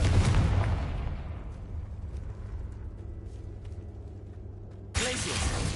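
A Confringo fire-blast spell in Hogwarts Legacy bursts as a loud, deep explosive boom that decays into a long rumbling tail, followed by a second sharp burst near the end.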